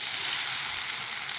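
A ghee tempering for sambar, with garlic and asafoetida, sizzles in a hot pan, a steady close hiss with no voices.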